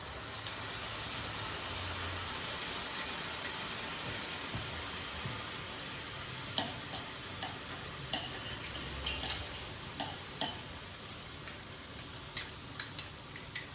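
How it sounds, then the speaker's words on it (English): A spoon stirs quinoa and beans in a pot, knocking and scraping against the sides in a fairly regular rhythm over a faint background hiss. "I'm going to finish stirring in the pot"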